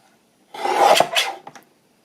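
Paper trimmed for a Christmas ephemera craft gives a close, dry rasping cut lasting about a second, then a few shorter scraping strokes that fade out.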